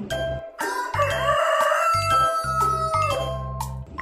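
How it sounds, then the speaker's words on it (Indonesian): A rooster crows loudly and close, its long warbling call rising and falling over a few seconds, with faint clucking and other farmyard fowl sounds beneath. "Ayam jantan"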